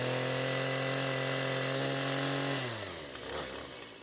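A chainsaw runs loud and close, its engine droning steadily before the pitch drops as the chain bites into soft wood, leaving rougher cutting noise.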